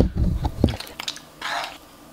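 Someone eats fried rice mixed with fresh egg up close, with moist chewing and soft crunchy bites in an irregular rhythm, then a brief rustling scrape.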